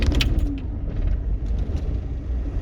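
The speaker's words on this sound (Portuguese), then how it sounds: "Vamos dar partida nele. Vamos ver se vocês escutam como que vai ser a partida." Chevrolet Monza EFI with a suspected fuel pressure regulator fault being started after sitting about sixteen minutes, a brief cranking burst followed by the engine catching and running at a steady low rumble.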